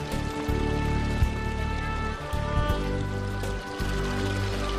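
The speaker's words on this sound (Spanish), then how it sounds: "El agua de la fuente" A fountain in a town square in Teruel pours steadily, a continuous splashing water rush heard alone at moderate level.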